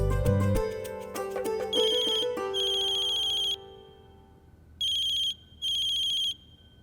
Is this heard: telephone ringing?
yes